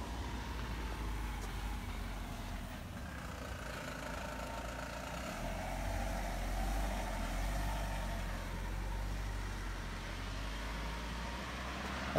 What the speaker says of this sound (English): Here comes a bus the other way.